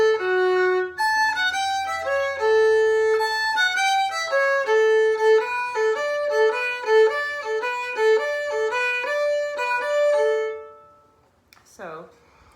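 Solo fiddle plays eight bars of the Pig Ankle Rag in a lively, syncopated swing rhythm, bright and close, with quick bowed notes that stop before a short noise at the end.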